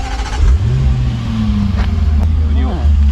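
A Land Rover Defender V8 P525 with a Quicksilver stainless exhaust and its valves shut, giving a close, loud engine rumble that rises in a rev and holds, with someone talking over it.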